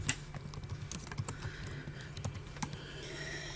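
Fingers type on a computer keyboard, a steady stream of close, quiet key clicks at an uneven rhythm over a soft background hum.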